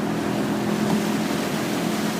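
Waves from a boat on Liptovská Mara lake, a steady rushing wash of water with a low motor hum, continuous and fairly close.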